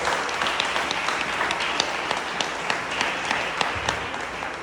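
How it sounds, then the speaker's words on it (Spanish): A church congregation applauds, a steady wash of many hands clapping with scattered sharper claps throughout, loud and sustained with no voices over it. "Dale un fuerte aplauso al Rey de Reyes, por favor."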